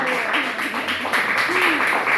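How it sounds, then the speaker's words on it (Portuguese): Church congregation applauding, a steady wash of clapping that fills the whole stretch with a voice speaking over it. "Aplaude ao Senhor, irmão."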